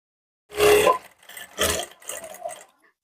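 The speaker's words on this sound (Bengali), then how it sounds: "তারপরে এখান থেকে আমি পুরোটা সেলাই করে যাবো" A sewing machine stitching a double-folded fabric edge on a kameez, three short motor-driven runs, the first loudest, separated by brief pauses, close and without speech.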